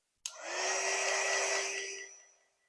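A heat tool or hair dryer drying paint on a fall home decor craft piece switches on with a click, blows a steady airy whoosh with a faint whine, then winds down.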